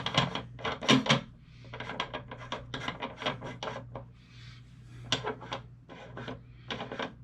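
A Redding bushing die being screwed into a reloading press gives a close, steady metallic rasping and grinding in short repeated bursts, like threads turning, with brief pauses between strokes.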